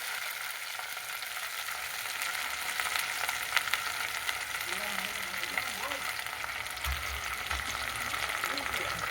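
Vaseti greens tipped into a pan of frying garlic cloves set off a steady, close sizzle that holds throughout, with faint stirring and scraping sounds over it and no voices.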